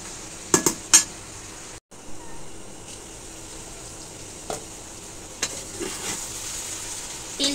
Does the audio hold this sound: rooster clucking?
no